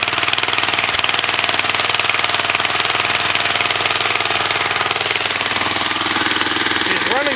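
A Snapper Comet small engine, choked by hand with a broken throttle cable, runs steadily and loud throughout with a constant rapid chugging drone, no pauses.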